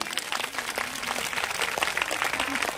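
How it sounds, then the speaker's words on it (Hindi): A crowd of women domestic workers at a conference in Kota, Rajasthan breaks into steady, dense applause, a continuous wash of many hands clapping at once with no pause. "आप जोरदार तालियां अपने लिए बजाएं।"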